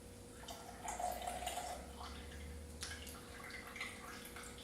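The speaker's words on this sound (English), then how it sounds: "I'm going to pour the liquid into the glass." Liquid from separated, partly melted milk trickles and splashes as it is poured into a glass, a soft low-level pour lasting a couple of seconds with small drips after.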